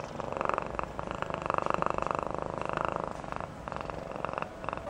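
A person imitates a cat purring with their voice, making a steady, rhythmic, close-up rumbling purr that pulses evenly for several seconds with no other sound.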